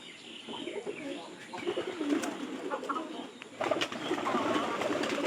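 Pigeons kept at a house, one near the doorway, coo in low throaty rolls through the whole stretch, with faint chirps and light clatter around them.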